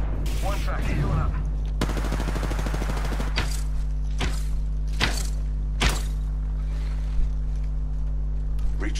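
Gunfire in a first-person shooter video game, with a dense burst of rapid automatic fire followed by several separate loud shots, set against a steady game background hum and occasional faint voices.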